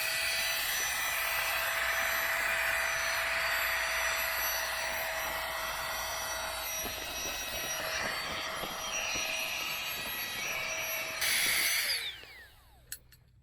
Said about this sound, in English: in this case, I'm pumping up my pillow.